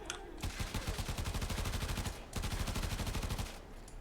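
Rapid automatic weapon fire from a Warframe gun mowing down Heavy Gunners, two long sustained bursts of loud, close, evenly spaced shots separated by a brief pause, with no talking.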